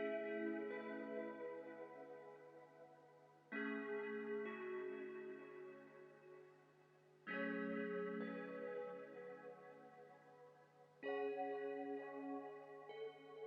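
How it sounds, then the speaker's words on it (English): Plucky synth keys with chorus play four sustained chords in a slow, evenly spaced rhythm, each swelling with a shimmering, echoing wash before fading, soft and atmospheric without any voice, made in FL Studio for a vintage sample. "Next thing I added was like this plucky sort of synth keys that sounds like this."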